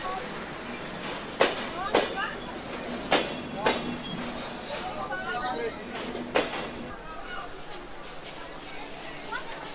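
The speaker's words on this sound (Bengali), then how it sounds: "আর এই ট্রেনে করে এখন আমরা যাব খুলনার উদ্দেশ্যে" Sundarban Express intercity passenger train heading toward Khulna, heard from inside an air-conditioned chair coach with steady rolling rumble, periodic clicking rail joints and passengers chattering nearby throughout.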